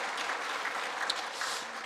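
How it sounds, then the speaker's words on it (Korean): A Sunday morning church congregation claps together in a brief, steady burst of applause, moderately loud and even throughout. "우리 박수 한번 해드리겠습니다"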